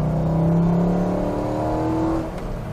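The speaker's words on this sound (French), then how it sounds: "une petite ligne droite, on est obligé d'accélérer." A Corvette C5 Z06 accelerating along a short straight country road, heard from the cabin as a loud engine drone rising in pitch, easing off briefly near the end.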